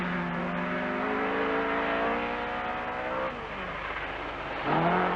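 Talbot Sunbeam rally car driven by Toivonen at a Brookes rallysprint, loud and near as it holds a steady engine note up a left-hand bend, then the revs drop and surge again near the end.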